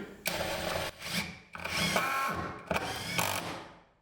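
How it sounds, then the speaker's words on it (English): A power drill drives screws into a board while a large utility closet is built in a 20x30 shop, with three loud, close whirring bursts separated by short pauses. "So I'll go ahead and get some screws in this."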